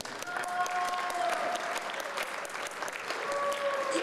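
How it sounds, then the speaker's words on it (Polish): An audience applauds at the closing ceremony of the Lotos Nord Cup Gdańsk 2021 sailing regatta, with dense, steady clapping throughout and faint tonal sounds in the background. "Wielkie brawa."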